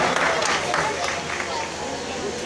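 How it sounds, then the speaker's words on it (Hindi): An audience at a Jeengar community gathering in Ahmedabad gives loud, continuous applause, a dense wash of clapping that fills the short stretch with a voice faintly beneath it. "जोरदार ताली बजा के सम्मान किया जाए"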